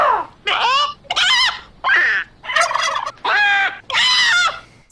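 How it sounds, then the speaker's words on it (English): Repeated loud turkey gobbles used as a comic sound effect come in six or seven quick warbling bursts, each separated by brief pauses, clear and close. "I was torn which bird sound effect to put there, so I'll just play them all."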